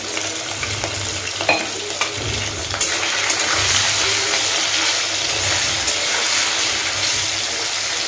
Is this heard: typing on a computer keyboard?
no